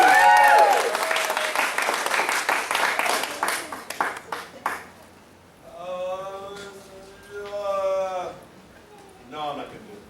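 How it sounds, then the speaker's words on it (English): An audience at a martial arts belt ceremony in Mount Dora, Florida applauds loudly for several seconds; the clapping then fades into voices cheering and calling out in waves. "And give the right cheer."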